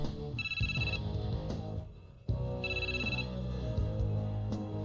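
A phone rings twice in short electronic bursts, separated by a brief pause, over low background sound.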